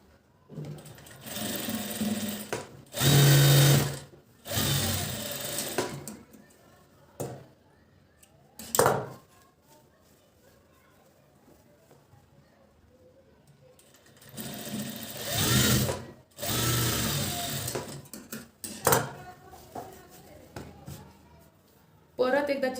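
An electric sewing machine stitches a blouse in several loud, whirring bursts, with someone talking in the quieter gaps between runs.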